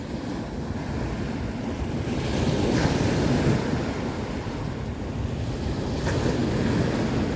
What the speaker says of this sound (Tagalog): May paalon-alon.